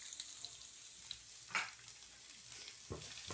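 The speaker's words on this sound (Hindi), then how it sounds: "अब मैं प्याज डालने लगी एक वाला" Chopped onion added to garlic already fried golden in a pan sizzles with a soft, steady hiss, with a couple of brief louder bursts as it is stirred.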